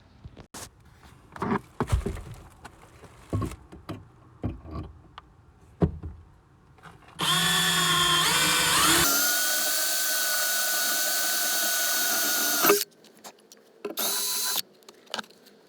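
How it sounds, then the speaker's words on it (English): A power drill bores holes to mount a racing seat: a loud, steady whining run of about five seconds, then a shorter burst, after a stretch of scattered clanks and handling noises. "And then drilling the holes, and I have some bolts, and I'll just bolt it in."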